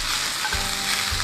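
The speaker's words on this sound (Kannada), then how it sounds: "ಹೈ ಫ್ಲೇಮಲ್ಲಿ ಇಟ್ಬಿಟ್ಟು ಇದನ್ನು ಚೆನ್ನಾಗಿ ಮಿಕ್ಸ್ ಮಾಡ್ಕೊಳ್ಳಿ." Beaten egg fries in a hot pan over high flame for egg Manchurian, giving a loud continuous sizzle with two soft scraping thumps as it is stirred.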